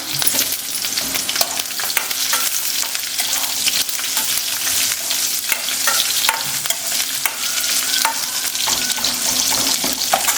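Onions fry in a pan after chillies and garlic with a loud, close, crackling sizzle, broken by frequent scraping stirs of a spoon against the pan.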